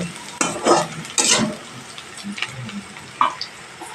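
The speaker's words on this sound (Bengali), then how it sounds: "রসুন আর আদাটা দিয়ে দিব দিয়ে এক মিনিট নাড়াচাড়া করার পর বাকি মশলাগুলো দেব" Garlic and ginger stirred and frying in hot oil in a pan, with loud bursts of scraping and sizzling in two strong waves, then quieter spatters and a short clink near the end, no talking.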